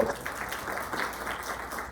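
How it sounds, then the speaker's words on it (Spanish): An audience at a university psychology faculty event applauds a guest, a short, steady patter of many hands clapping together at moderate loudness. "También le ofrecemos un aplauso, por favor"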